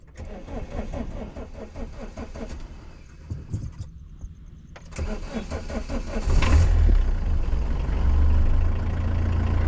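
A Peugeot 309's TUD5 engine cranks and starts, then runs with a steady close rumble that grows louder and fuller as it settles into idle.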